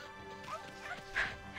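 Amaterasu, the white wolf in the video game Okami HD, lets out a few short, bright barks spaced across a moment of low game background sound.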